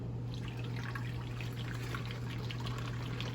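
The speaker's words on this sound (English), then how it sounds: "I'm going to use our Brita water filter to fill it up." Filtered water from a Brita filter pours steadily into a SodaStream bottle, a close, continuous trickling splash with no pauses, set against a low steady hum and no talking.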